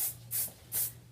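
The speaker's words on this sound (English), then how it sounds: "I want to spray in a little bit of hairspray" Hairspray hisses from an aerosol can onto hair while waves are being styled, three short airy bursts spaced evenly about a third of a second apart, close and fairly soft, with no talking.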